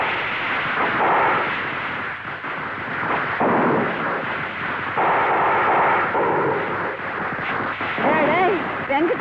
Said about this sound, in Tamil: வெடி சத்தம் மாடி மேல யாரோ பட்டா சொல்றாங்க.